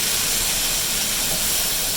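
Vegetables sautéing in a pan for Indian-style sabzi, a loud, constant hissing sizzle heard up close with no break.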